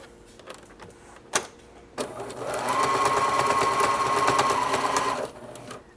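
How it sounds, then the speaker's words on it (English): A sewing machine runs one steady burst of about two and a half seconds, stitching down the edges of boxer brief legs, preceded by a few soft clicks and handling sounds. "we're going to sew down the edges of each to make circles"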